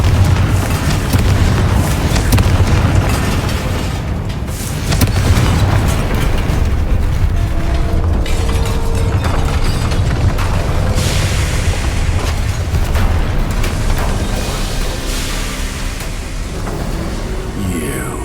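A loud, sustained barrage of magical blasts and booms from the Confringo spell in Hogwarts Legacy, dense crackling explosions filling the whole stretch with little pause.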